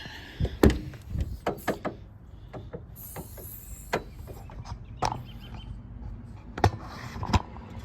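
Door of a 2007 Toyota FJ Cruiser opening, several sharp clicks and latch clunks with mechanical rattles close by in a quiet garage setting, no talk.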